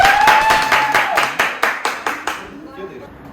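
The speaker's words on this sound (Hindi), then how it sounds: "पर आपकी तालियों में भी जोर होना चाहिए।" Audience clapping at a Jain Varshitap celebration program, a run of roughly a dozen distinct claps in a steady rhythm that thin out and fade over a few seconds, with a voice faintly audible at the start.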